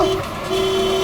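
A steady, sustained car horn blares loudly and close by, one long unbroken honk lasting the whole moment.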